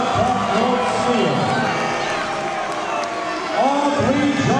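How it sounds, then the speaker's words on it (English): Arena crowd at a Cutthroat MMA lightweight championship bout roars and applauds after three rounds inside the cage, a dense, steady wash of cheering with an announcer's amplified voice talking over it. "please give the two big martial arts warriors a round of applause for three exciting rounds of action inside the Cutthroat Sphere"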